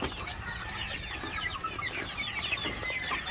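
On a chicken farm, a crowd of small chicks with a rooster among them keeps up dense, continuous high-pitched peeping and cheeping, close and steady throughout.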